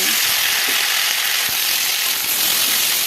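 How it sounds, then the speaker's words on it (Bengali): Cut potatoes fry in oil in a wok, a loud, close, continuous sizzling hiss with a few soft stirring knocks underneath and no voices. "একটু নেড়ে চেড়ে নিয়ে আলুগুলোকে ভাজতে বসিয়ে দিয়ে"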